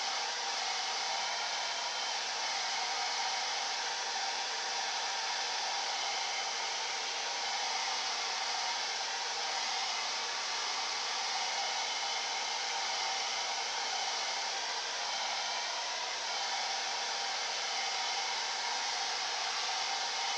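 A hair dryer blows steadily on acrylic paint on a canvas, a loud, constant close whooshing roar held unchanged throughout with no talk.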